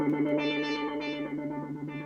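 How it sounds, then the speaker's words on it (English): Boss SY200 synthesizer playing a sustained note through a moving filter effect, its bright overtones sweeping and pulsing steadily over a held tone, with no talking. "So I think what that might be is this moving filter."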